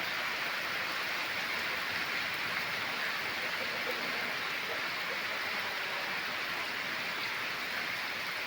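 Summer rain falls with wind as a steady, even hiss of rainfall that stays at a constant moderate level, with no voices.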